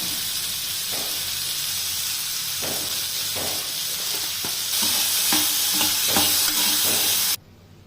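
Tomatoes sauté in a hot pan for a chutney, a steady close sizzle broken by repeated spatula scrapes and stirring knocks that grow busier toward the end before stopping abruptly.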